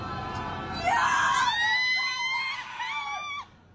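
Screaming from a video being played back, a loud, drawn-out wailing scream lasting a few seconds before cutting off abruptly.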